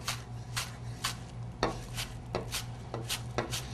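A knife chops chives on a cutting board for gazpacho, giving a steady run of crisp, close knocks at an even rhythm with no talking.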